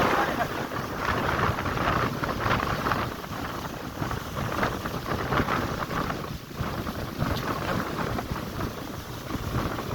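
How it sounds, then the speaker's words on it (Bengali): Fierce storm wind with no rain roars in steady, heavy gusts that batter the microphone, loud and unbroken from start to finish. "কি বাতাস, ওরে কি বাতাস, ওরে বাতাস।"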